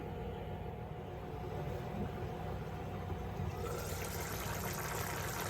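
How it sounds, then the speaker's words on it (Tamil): Ivy gourd gravy boils in a pan on the stove, giving a steady, close hiss of bubbling liquid that gets somewhat brighter near the end, with no talking. "இப்போ பாருங்க, நமக்கு கிரேவி நல்லா கொதிச்சிட்டு இருக்கு."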